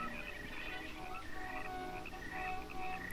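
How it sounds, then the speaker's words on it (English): Frogs croak at night in a steady, faint chorus of repeated calls that runs continuously in the background, with no talking. "Frogs?"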